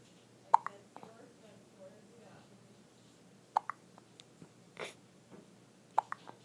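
A baby hiccups three times, spaced a few seconds apart. Each hiccup is a sharp, close, quiet little catch, and there is soft breathing and faint voice sounds between them.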